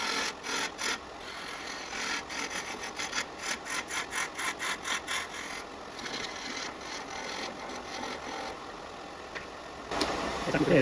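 Gouge taking a peeling cut on wood spinning in a lathe, producing a steady raspy scraping hiss with rhythmic pulses as the tool bites, fairly close and continuous throughout.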